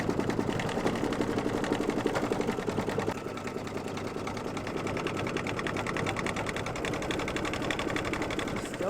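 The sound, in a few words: sewing machine stitching over a quilt seam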